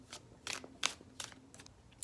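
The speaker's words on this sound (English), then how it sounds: "let's see what else we get as I shuffle here" A deck of cards is shuffled by hand in quick bursts of crisp riffling, five or six short papery flurries separated by brief pauses, close and fairly quiet.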